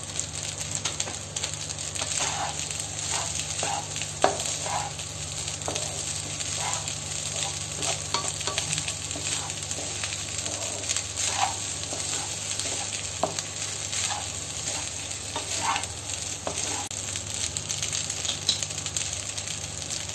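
Steady frying sizzle of green chilies in a pan, with scattered pops and crackles, continuous and close, with no talking.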